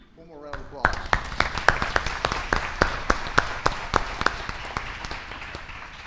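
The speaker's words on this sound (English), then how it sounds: "One more round of applause." After brief speech, a small meeting audience claps in a short round of applause, with sharp separate claps in a steady rhythm that gradually fade.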